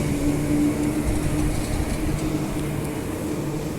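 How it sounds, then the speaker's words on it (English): A steady rumble of a shuttle train departing Victoria Park station, with a faint tonal whine and rattle, holding level throughout without voices. "There goes that train. It'll just exit normally."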